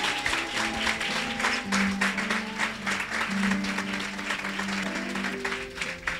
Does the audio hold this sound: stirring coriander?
no